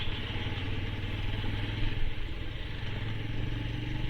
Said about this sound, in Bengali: এই যে আমার সামনে দেখেন এক এক গাদা বাইক আরে বাবারে ওভারটেক কারে বলে দেখছেন